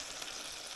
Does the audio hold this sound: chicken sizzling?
yes